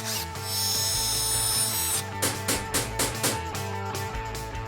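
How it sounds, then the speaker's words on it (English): A power drill bores into a roughly 70-year-old wooden bed frame, a sustained high whine at first, then a run of short, grinding bursts as the bit bites and stops, close and alone. "I think we'll get the drill and the saw, and then we'll try and take this apart, drill it out."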